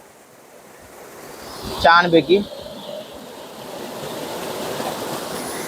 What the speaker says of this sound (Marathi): मोरीतून पाणी बघा कसं येतं ते